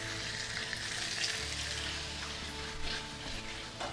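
Tilapia fillets pan-searing in hot oil, a continuous close sizzle and crackle holding steady for several seconds, with faint spattering bursts and no voices.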